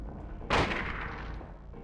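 A single loud hunting rifle shot in the horror video game Silent Hill, a sharp blast with a long, fading reverberant tail over a low background rumble.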